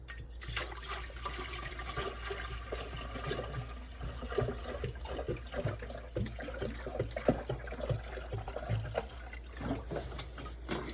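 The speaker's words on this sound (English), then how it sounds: "So here's my distiller. I'm going to fill it up to the fill line." Tap water pours steadily into a water distiller being filled to its fill line, a continuous close splashing trickle with a low hum underneath and no speech.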